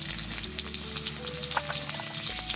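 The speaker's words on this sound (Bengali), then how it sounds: "পেঁয়াজটা লাল লাল করে ভেজে নেবে" Chopped onion fries in mustard oil in a kadai with dry red chilli, cumin and whole garam masala. The sizzle is continuous, with light stirring scrapes and a low hum underneath.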